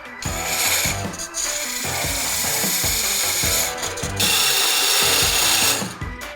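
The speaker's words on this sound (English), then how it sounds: "I'm going to use a parting tool to remove it part way from the base" A parting tool cuts into wood spinning on a lathe while the base of a giant Catan robber piece is separated, giving a loud, continuous scraping rasp with brief dips in the cutting.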